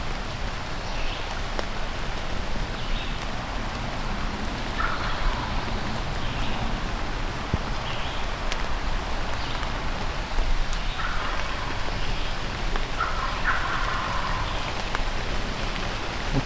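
Wild turkeys gobble back from a distance in answer to a hunter's pot call, several birds scattered across the woods; faint repeated gobbles rise over steady rain pattering on leaves and ground.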